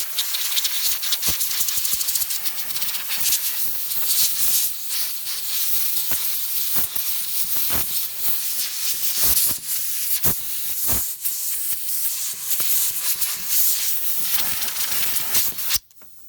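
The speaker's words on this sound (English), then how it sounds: "I just blew this off with my air compressor, but I'm gonna do it again a little bit better" Compressed air from an air compressor nozzle blasting debris off the fuel pump area of a 2001 Toyota Sequoia, a loud steady hiss with rattling crackles that runs continuously and cuts off at the end.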